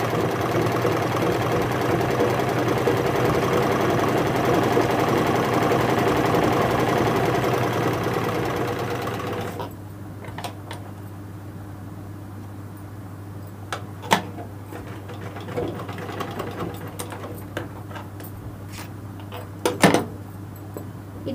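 A sewing machine runs steadily while stitching a dori, the tie cord for a blouse. It whirs loudly and continuously for about ten seconds, then stops, leaving a quiet background with a few faint clicks and taps.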